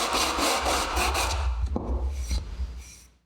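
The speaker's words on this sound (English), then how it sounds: "starting the cleanup process with some 180 grit sandpaper" Old marking gauge being scrubbed with 180 grit sandpaper to remove corrosion, loud, close rasping strokes in quick rhythmic passes that slow and fade at the end; no talk.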